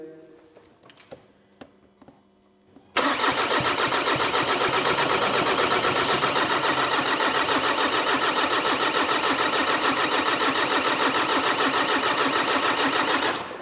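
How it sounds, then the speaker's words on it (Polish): After a few clicks and quiet handling, a VW Golf 2.0 GTD diesel engine with injectors disconnected cranks loudly and continuously with a fast rhythmic chug, turning over without ever catching. "Wtryski odłączone, kręcimy."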